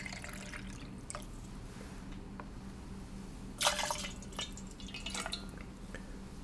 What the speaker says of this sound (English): pretty sturdy pour here